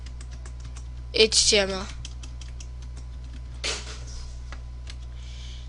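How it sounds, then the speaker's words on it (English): Typing on a computer keyboard while writing HTML code, with soft, rapid key taps running steadily under a brief spoken word and a constant low electrical hum. "all you have to type is doc type"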